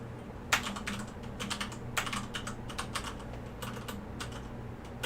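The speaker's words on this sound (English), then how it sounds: "I'll type this in the Discord." Fingers type on a computer keyboard, producing quick bursts of light key clicks separated by short pauses over a quiet background hum, close and fairly soft.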